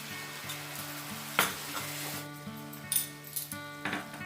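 Spices for Mughlai pomfret sizzle steadily in a hot pan, with occasional stirring scrapes and clinks of a utensil against the metal, close and continuous, over a faint tonal hum.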